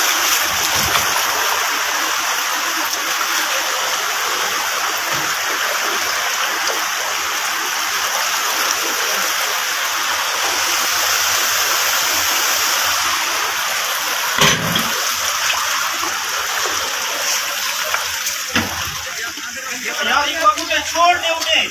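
Floodwater rushes loudly and continuously through Swat, a broad roaring wash that holds steady throughout, with voices faintly mixed in and a few thumps toward the end.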